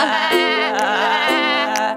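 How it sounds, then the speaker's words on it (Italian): A sheep bleats in a long, wavering, quavering call that stays loud and close, a single sustained cry with slight pulses and no voices present. "la pecora fa ba,"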